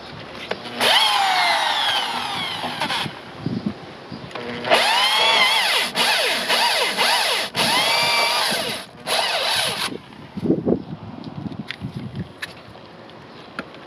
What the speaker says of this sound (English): So now we drill the hole bigger.